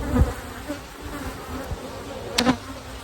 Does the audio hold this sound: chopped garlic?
no